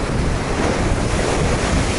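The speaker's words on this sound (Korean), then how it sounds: "바다, 바람, 돌" Sea waves break and wash continuously along a rocky coastal trail on the Homigot peninsula, with steady gusts of wind buffeting the microphone throughout.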